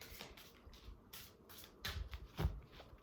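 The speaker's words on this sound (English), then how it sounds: "Shuffle some more." Soft, irregular riffling of tarot cards being shuffled by hand, with a few louder slaps and flicks near the end, close and quiet.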